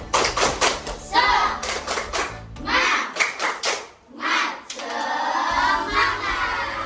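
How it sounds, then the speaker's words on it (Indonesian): Classroom of children doing a rhythmic clapping chant, sharp bursts of hand claps in patterned groups with brief pauses, loud and close, mixed with young voices chanting along. "Tepuk semangat."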